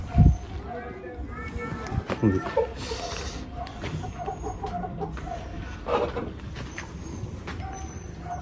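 Desi hens cluck in short bursts near and farther off, over a soft background of farmyard noise and people talking.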